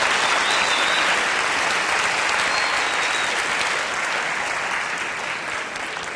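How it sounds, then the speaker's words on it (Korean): Sustained, loud applause from a lecture audience at a university guest lecture, dense and steady for about six seconds and fading slightly at the end, with no talk over it. "여러분 박수 한번 보내주세요."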